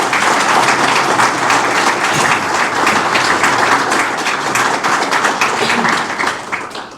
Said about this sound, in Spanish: para quien pido un aplauso en este momento